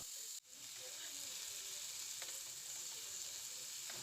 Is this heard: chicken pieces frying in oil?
yes